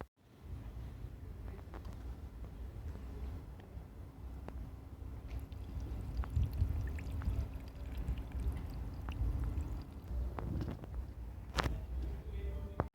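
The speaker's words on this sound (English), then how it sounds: "I should pour in about half of the bottle to do this curative treatment" Bardahl Injection Restorer being poured from its bottle into the diesel fuel tank of an Astra H 1.9 car, a steady low gurgling pour running for several seconds with a few small knocks and clicks, close to the microphone.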